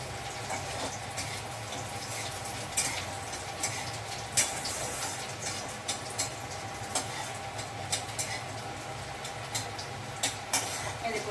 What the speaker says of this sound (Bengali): রসুনটা আর লঙ্কা একটু ভাজা ভাজা হলে